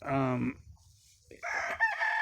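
A rooster crows twice, the calls strained and uneven like a young bird's, close by with a quiet pause between them.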